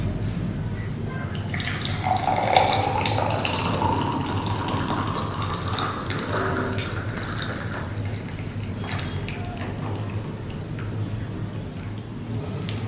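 Boiled flower-dyed water being strained at home for natural Holi colour, a steady close trickle and splash of liquid running continuously, fairly loud and unbroken, with no talk over it.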